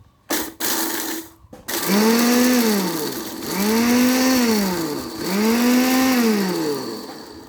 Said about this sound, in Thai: ครับจะปั่นให้ดูนะ